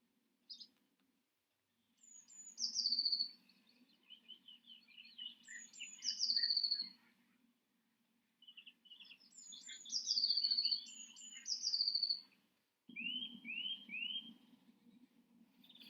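Songbirds sing in a Nebraska yard, bright whistled phrases repeated in bursts with short pauses, over a faint steady background hum of insects.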